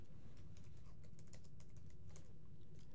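Steady run of light, crisp keystrokes on a computer keyboard as a short phrase is typed into a text field, close and quiet, with no talking.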